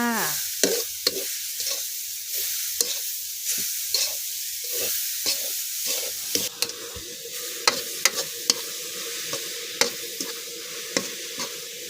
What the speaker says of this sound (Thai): เดี๋ยวเราจะผัดต่อไปเรื่อยๆค่ะ เพื่อให้มะพร้าวของเราแห้งดีเลยนะคะ